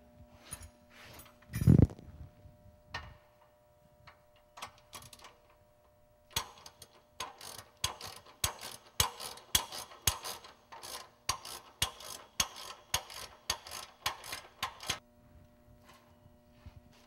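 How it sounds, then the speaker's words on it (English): A hand ratchet tightens a top nut during an installation, with a quick run of close, rhythmic clicking strokes following an earlier thump and scattered handling noises. "We take our ratchet."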